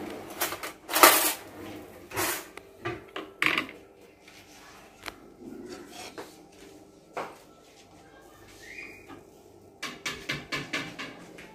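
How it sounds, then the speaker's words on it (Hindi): Spoons and cutlery clatter in a home kitchen, with repeated sharp metallic clinks and rattles in bursts, some close and loud, others lighter, with brief quiet gaps and faint voices in the background. "स्पून निकाल लो।"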